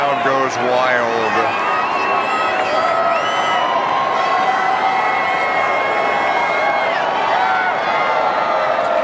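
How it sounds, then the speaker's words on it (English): Big arena crowd at a presidential event at Capitol One Arena erupts in loud, continuous cheering, whoops and shouts, a dense, unbroken roar of many voices. "And the crowd goes wild."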